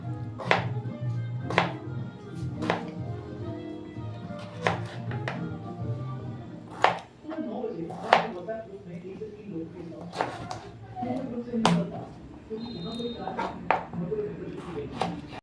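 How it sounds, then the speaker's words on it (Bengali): A knife chops potatoes on a board for a Bengali ghugni, with sharp, close, uneven cuts every second or so under a voice talking. "এবার আলুগুলো কেটে নেবো"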